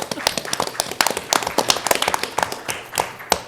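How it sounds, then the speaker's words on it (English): A crowd at a town board meeting gives a round of applause: many hands clapping in a dense, steady patter of sharp claps that lasts throughout at moderate loudness. "Let's give him a round of applause."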